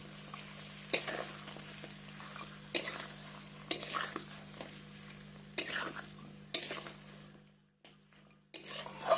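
A spoon works fish and spices together in a pan, giving a steady pattern of loud scraping strokes roughly once a second against a soft sizzle, with a short pause near the end and no talking.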